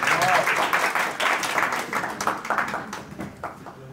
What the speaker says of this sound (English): Ed Daniel should deserve more applause.